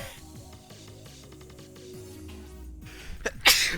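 A single sharp sneeze bursts out near the end, loud and close, after several seconds of quiet background music and game sounds.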